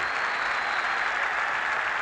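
Dense, steady roar of a big football crowd at a Northern Ireland versus England match, with the Irish fans stirred up early in the second half, broad and continuous with no break or clear individual voices.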